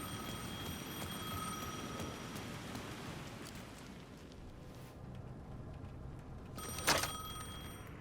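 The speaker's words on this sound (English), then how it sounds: "The phone was ringing again." In the video game Alan Wake 2, a telephone rings through a steady rain-like hiss and background ambience, with one brief louder sharp burst near the end.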